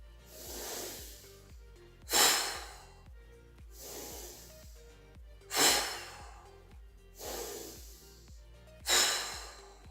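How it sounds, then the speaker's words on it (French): Three deep, forceful breaths are drawn and released during a relaxation exercise, each a loud airy rush spaced a few seconds apart. Soft, steady background tones play underneath. "je vais prendre 3 respirations toniques"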